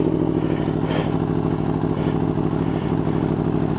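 A motorcycle engine, its battery weak after the winter, chugs at a steady idle just after the starter is hit, with a low, even throb and a mechanical clatter throughout.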